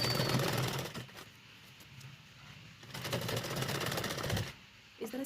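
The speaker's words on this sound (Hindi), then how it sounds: "इस तरह से हम इसकी सिलाई करेंगे।" A sewing machine stitches fabric for a zipper pouch made from leftover cloth, its quiet rapid mechanical chatter running in bursts with short pauses between them.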